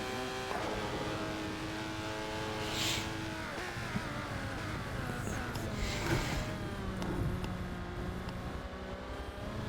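Several race cars lapping the Maple Valley circuit in a sim racing game, engines droning and shifting pitch together as they pass, a steady, loud pack sound with no talk.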